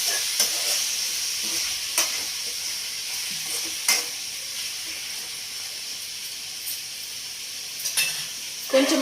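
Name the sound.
ridge gourd and tomato sizzling and stirred in a pan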